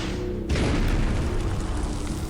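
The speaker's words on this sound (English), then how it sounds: "as you all kind of hear this massive explosion" A massive explosion sound effect erupts suddenly into a deep, roaring boom that swells and keeps rumbling loudly with dense, broad noise.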